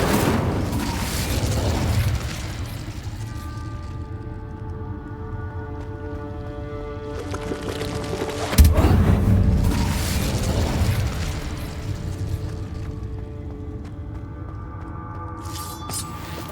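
The Incendio fire spell goes off in Hogwarts Legacy with deep booming bursts, one near the start and a sharper blast midway, each followed by a lingering, ringing magical hum.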